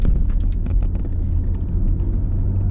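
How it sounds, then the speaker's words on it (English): A car rolls steadily through a Parks Canada park on Prince Edward Island, a close, continuous low rumble of engine and tyres with light rattles above it and no one speaking. "Today we're driving through the park"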